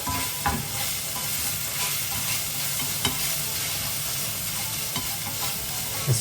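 Vegetables for ajvar sizzling and crackling steadily in a hot pan, with occasional scraping and stirring clicks, no voices.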